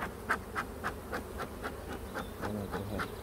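Honey bees buzzing at an opened hive during an inspection, a low steady hum close by with a rhythmic series of soft pulsing beats, no voices.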